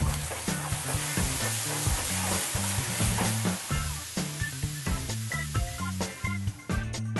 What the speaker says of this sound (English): I'm going to flambe it now. I turn my fire off, add a little bit of brandy, turn my fire back on,